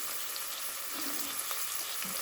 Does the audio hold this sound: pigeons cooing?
no